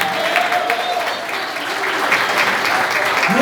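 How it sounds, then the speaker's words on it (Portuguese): Steady, dense applause from a church congregation, continuous and fairly loud throughout, with faint voices mixed in. "Dê uma salva de palmas para Jesus."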